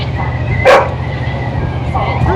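A dog on a ferry ride gives one short, sharp bark over a constant low engine rumble, with people talking nearby.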